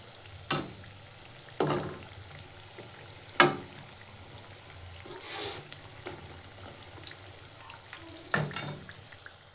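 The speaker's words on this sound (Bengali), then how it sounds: "উল্টায় পাল্টায় ভেজে নেব ভালো করে।" Coconut-filled puli pitha frying in medium-hot oil, a steady soft sizzle broken by a few sharp clinks and scrapes as the dumplings are turned, fairly quiet and close with no talking.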